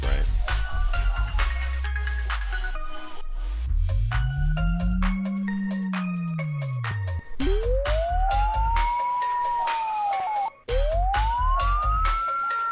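A synth whose pitch is swept by a tempo-synced LFO, with a low tone arcing up and back down and then higher tones rising in repeated glides, like a siren. It plays loudly over a steady electronic backing.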